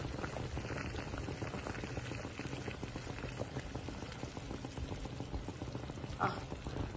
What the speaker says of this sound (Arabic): الميه دي طبعا انا غلياها